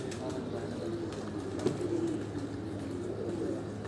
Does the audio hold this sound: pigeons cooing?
yes